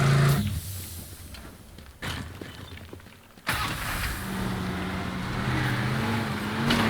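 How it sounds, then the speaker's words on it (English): A big semi-truck driving in the game Teardown, with a loud, steady low engine roar that drops briefly, then surges back and holds, with no talk over it. "What if I just use the big semi-truck?"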